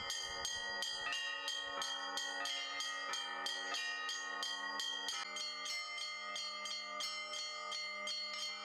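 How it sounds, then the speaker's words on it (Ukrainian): Church bells ring in a continuous peal at a bell ringers' festival in Lutsk, with rapid rhythmic strikes layering bright, sustained tones, loud and clear throughout. "Хлопці вибивають передзвін."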